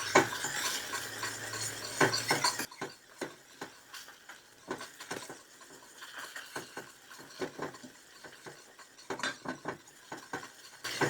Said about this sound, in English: And you want to continuously whisk.